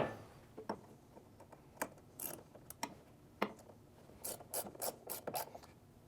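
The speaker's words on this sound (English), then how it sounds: "Mine's a little stiff, so I am going to put a wrench on it here." A wrench turns a stiff bolt while fitting a swivel loading ramp to a ProMaster van, giving quiet intermittent ratcheting clicks and scraping rubs in short irregular bursts, close by with no talk.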